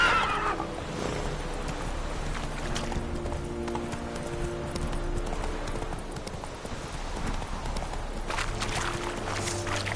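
Roach, Geralt's horse in The Witcher 3, whinnies sharply at the start, then hooves clop in a steady rhythm, close and clear over a low ambient game background.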